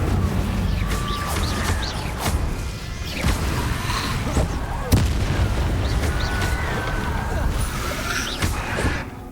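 Incendio fire spell effects in a Harry Potter video game, dense crackling bursts and booms with a steady roar underneath, voices speaking throughout.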